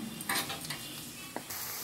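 Baby shark fish bhurji sizzles softly in a pan while a utensil stirs and scrapes through it, with a couple of sharper clinks against the metal; the frying hiss stays low and close, and nobody speaks.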